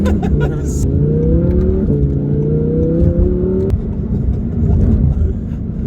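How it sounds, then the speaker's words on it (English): A 2017 Audi R8 V10 Le Mans Edition engine revs loudly with rising harmonic pitch, then drops back to a rumbling idle, close and continuous throughout. "it's very loud when it comes to the exhaust and the sound of the car"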